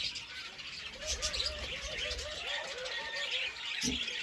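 Domestic pigeons coo in an aviary, a run of soft, rounded, wavering calls repeating steadily at close range, with higher chirps and faint rustling from other birds in the background.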